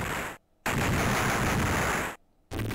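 Gunfire in the Probotector video game comes as two long, dense roaring bursts of rapid shots, loud and noisy, with one brief abrupt silence between them and another cut near the end.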